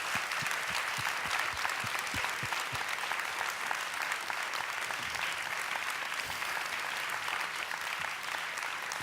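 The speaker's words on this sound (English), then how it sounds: "a big round of applause for Justin for joining us tonight" A ballet talk audience breaks into sustained applause, dense and steady clapping from a large indoor crowd that holds at an even level throughout.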